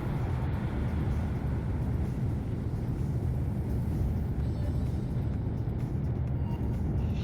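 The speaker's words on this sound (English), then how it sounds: "You heard that baritone thump when the engines kicked on?" Rocket engines roaring after ignition in Kerbal Space Program, a steady, deep, dense rumble held at even loudness throughout, with no voices over it.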